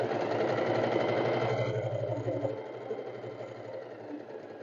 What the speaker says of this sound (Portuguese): eu vou passar uma costurinha aqui fechando esse laço